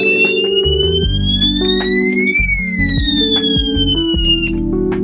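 A building fire alarm system sounds its evacuation signal after being triggered from the control panel, a loud, continuous electronic tone with shifting pitch and a pulsing lower layer, heard close and alone.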